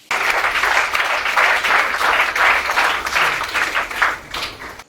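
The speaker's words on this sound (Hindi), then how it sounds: "तो इसके लिए आप खड़े होकर ताली बजाइए।" An audience rises for a standing ovation at a ceremony honouring a student who reached IIT Dhanbad, giving loud, dense, continuous clapping that swells and then tapers off near the end.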